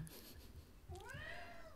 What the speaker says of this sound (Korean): 저희 고양이가 너무 많이 울고 있어요.